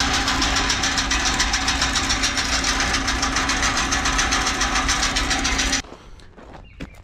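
An engine-driven hay elevator running up into a barn gives a loud, continuous mechanical drone with a steady rhythmic clatter for nearly six seconds, then stops abruptly, leaving quieter thumps and scattered knocks.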